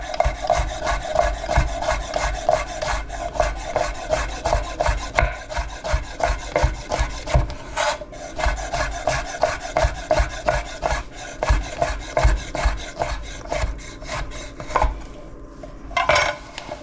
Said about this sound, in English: I'm going to slice it and fry it off